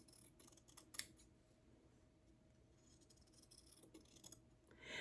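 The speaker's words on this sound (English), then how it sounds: "Then I've got my fabric scissors here, and I'm going to cut on the line." Fabric scissors cut through cloth along a traced line, quiet close-up snips and blade clicks in an irregular rhythm over a faint background.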